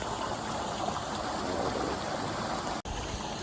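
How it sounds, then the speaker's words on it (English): Steady rushing of flowing stream water fills the clip, a continuous close broadband wash with no talking. "And you can hear the water,"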